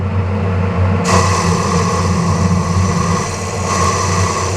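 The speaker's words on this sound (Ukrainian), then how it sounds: "будемо різати відрізним різцем" A lathe cuts a radius groove in a gear shaft with a parting tool, giving a loud, steady machine drone and motor hum, with a brighter cutting noise setting in after about a second and running continuously.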